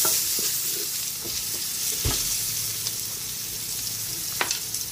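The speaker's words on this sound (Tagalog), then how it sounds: "Lagay na rin natin yung sibuyas." Onion sautés in a pan with a steady, dense sizzle and crackle, close and loud, punctuated by a few soft clicks and taps of a stirring utensil.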